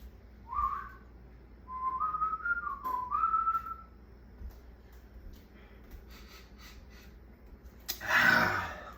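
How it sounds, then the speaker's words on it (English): Short, quiet whistling from a person calling a dog: a few light rising and falling tones in the first few seconds, then a louder brief rustle near the end. "the dog heard my little whistle"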